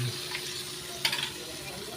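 An egg frying in a pan makes a soft, steady sizzle close by, with a couple of brief clattering bursts of movement near the middle and at the very end.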